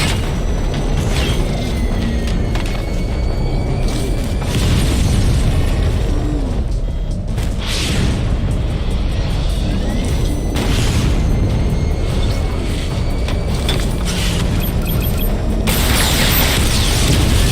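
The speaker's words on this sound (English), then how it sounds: "Missile barrage level 2 ready." Missile barrage firing in Batman Arkham Knight: a dense, continuous rumble of booms and blasts with mechanical clatter, loud and sustained throughout.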